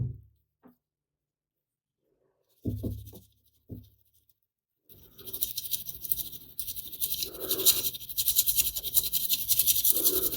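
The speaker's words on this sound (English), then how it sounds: "So after a few more minutes of sieving" Dry mealworm droppings are shaken through a sieve, giving a continuous rhythmic scratchy rattle that swells and fades, after a few isolated taps and knocks.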